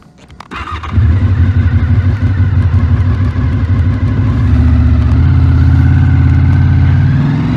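A motorcycle starts up and rides slowly through a steep corner, its engine a steady low rumble with a slight rise in revs midway, close and loud throughout.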